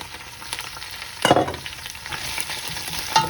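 Prawn shells hit warm extra virgin olive oil in a pan over medium heat, a sudden burst of sizzle and scraping stir, then a quieter steady crackle close by with no talking.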